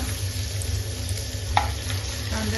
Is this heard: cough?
no